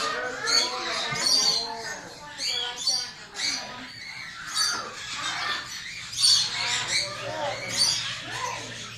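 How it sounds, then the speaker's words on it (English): Cockatoos squawk and screech in a pet bird store, shrill repeated calls rising in bursts close by, with people talking among the birds. "We're gonna see the cockatoos again."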